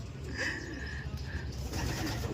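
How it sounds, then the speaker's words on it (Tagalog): A pigeon coos from up high overhead, soft repeated coos over steady outdoor background noise, fairly close and clear. "Meron palang ibon dito sa taas."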